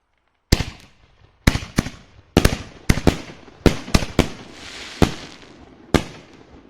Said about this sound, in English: Just setting off a few solo shots. Miniature canister shells from, I want to say Boomer